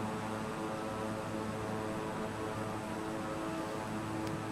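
Constant droning propeller airplane engine in a flight simulator game, a steady tonal hum with layered harmonics at even loudness throughout, no speech.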